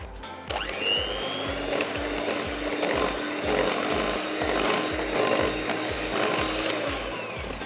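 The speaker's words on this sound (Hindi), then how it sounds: "ये घर की आम दानेदार जो चीनी होती है उसको पीस के मैं कैस्टर शुगर बना देती हूँ।" Granulated sugar whirs in a grinder to become caster sugar, a loud steady motor buzz with a fast rhythmic pulsing that runs unbroken close up, with no talk over it.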